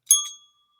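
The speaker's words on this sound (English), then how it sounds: "I get a bell." A bright bell ding rings out once, clean and loud, its metallic tone decaying quickly into silence with no voices.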